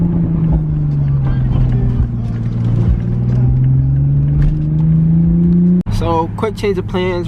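A car drives through city streets between Roxbury and Dorchester, its engine droning steadily and close with a slowly rising pitch, while someone talks over it.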